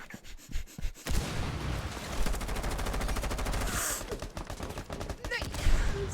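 Rapid automatic gunfire in Rainbow Six Siege, a loud sustained rattle of shots in quick bursts with brief pauses, player chatter faintly beneath.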